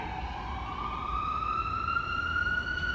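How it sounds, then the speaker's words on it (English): A distant siren wails steadily, its pitch slowly rising, over a low rumble of traffic with no one speaking. "I don't know if you can hear the sirens"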